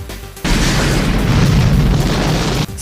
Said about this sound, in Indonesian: Pesawat Stuart yang mulai terbang akhirnya meledak.